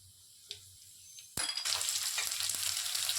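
Garlic frying in oil in a pan, a quiet low hum at first, then a sudden loud burst of sizzling that keeps going, close and bright, with a faint clink near the start.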